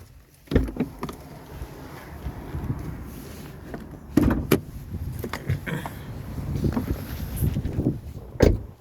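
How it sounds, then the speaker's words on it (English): Mechanical clunks and a couple of sharp metallic thumps as the hood of a 2021 Jeep Grand Cherokee is released and lifted, with low rumbling handling noise between them. "So let's pop the hood."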